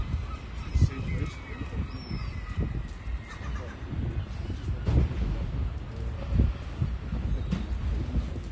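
Gulls at a city-centre seagull nursery by Aberdeen Market squawk and cry in scattered bursts over low urban background noise, with someone talking softly now and then.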